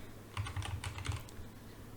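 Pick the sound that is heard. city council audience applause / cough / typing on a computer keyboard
typing on a computer keyboard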